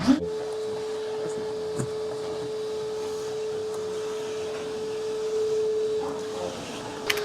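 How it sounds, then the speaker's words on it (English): A small vacuum cleaner whirs steadily with a thin, constant whine, with a few light knocks and bumps over the running motor. "This boy with a little vacuum."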